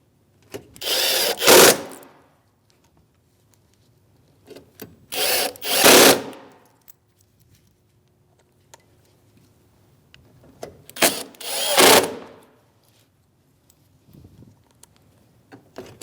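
A power drill drives T15 Torx mounting screws into a side bumper bracket on a 2016-2025 Chevrolet Malibu in three separate short bursts, each a rising whir with quiet gaps between.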